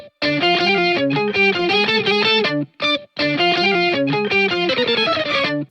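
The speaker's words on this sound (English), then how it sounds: "Our main riff on the guitar is done." Distorted electric guitar plays a fast, dense riff in two loud, close phrases split by a brief pause, with sustained chordal tones and no voices.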